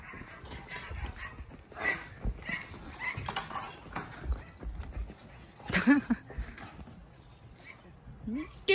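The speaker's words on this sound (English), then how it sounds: "Get the dog off set, why don't you?" A dog on a home-made wrestling video set makes a scattering of soft barks and whimpers, close by and mixed in with people talking and moving about.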